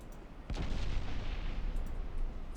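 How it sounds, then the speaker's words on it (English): Torpedo detonations in a naval battle in the Ultimate Admiral Dreadnoughts video game, heard as a heavy booming blast that swells into a sustained low rumble of distant explosions. "Torpedo detonation, that is wonderful news"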